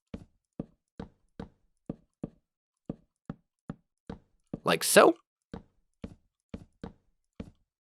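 Blocks being broken in Minecraft while building a cactus farm: a steady series of short, crisp knocking taps, evenly spaced, with a brief louder rustling burst near the middle and a voice speaking once.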